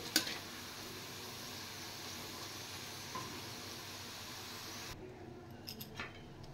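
Thinly sliced onions fry in oil for tehari with a soft, steady sizzle that cuts off near the end, followed by a few faint clinks.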